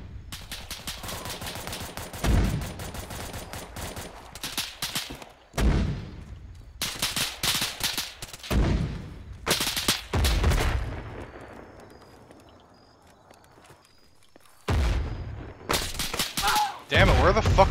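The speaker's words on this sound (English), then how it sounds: "drop some mortars in that mark I just put" Mortar rounds and gunfire in Arma 3: repeated loud booming impacts and bursts of rapid gunshots come in clusters, with quieter gaps between and radio-style voices talking over parts of the battle.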